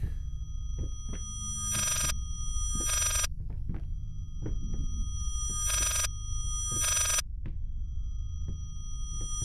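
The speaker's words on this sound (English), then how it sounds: "That's supposed to be a ringing in my ears" Ear-ringing effect in the horror video game Layers of Fear: steady high-pitched tones that pulse in bursts, laid over low rumbling ambience and soft thumps, with no one speaking.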